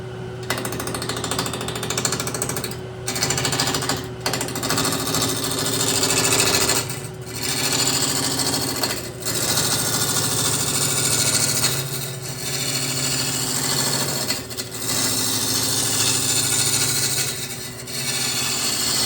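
A wood lathe spins an apple wood bowl blank with a loud, steady motor drone and rough chattering hum, broken by several brief dips as the tool lifts off the workpiece.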